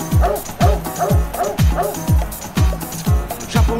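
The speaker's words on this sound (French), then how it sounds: "J'ai un chien, il arrête pas d'aboyer" A dog barks repeatedly in a fast, steady rhythm of about two barks per second, loud and close, with sharp high yips layered in.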